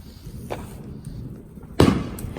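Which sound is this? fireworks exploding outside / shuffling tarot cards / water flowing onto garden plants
fireworks exploding outside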